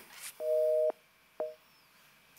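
A telephone busy signal on a live radio call-in line after a caller's connection drops: two steady, moderately loud dual-tone beeps, the first longer than the second, with a quiet gap between them.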